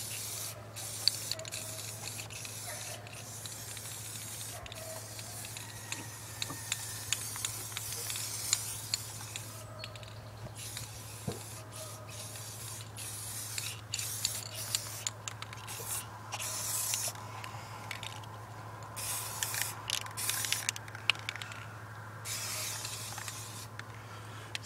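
A spray gun lays clear coat over painted parts of a Kawasaki KX250 dirt bike in short hissing bursts, steady and close, over a constant low hum with no talking.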